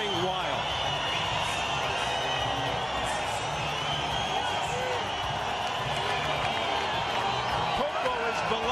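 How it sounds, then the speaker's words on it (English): A large boxing crowd at a 2003 championship bout between Acelino Freitas and Jorge Barrios roars continuously, a dense sustained wall of cheering and whooping with no breaks across the whole stretch. "Crowd going wild."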